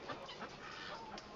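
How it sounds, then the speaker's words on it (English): Backyard chickens clucking on a snowy day at feeding time, a soft low murmur of clucks under a breathy hiss, faint and steady across the short stretch. "And I've got some chickens."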